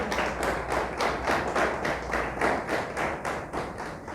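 A church congregation claps together in a steady rhythmic beat, loud and close with no voices over it.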